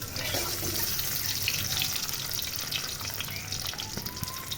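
Eggs frying in hot oil in a pan, a steady, dense sizzle that stays loud and close throughout, with no talk.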